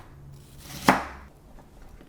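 A single firm knife chop goes through food on a cutting board, one sharp close thud with near silence on either side.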